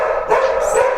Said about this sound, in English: And that's what the dogs think about it.